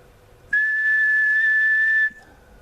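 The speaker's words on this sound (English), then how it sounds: "when I whistle into the microphone it will go up to that peak brightness" A single steady, sustained whistle blown into the microphone of an AM radio transmitter, lasting about a second and a half. It is loud, clear and alone, with no talk.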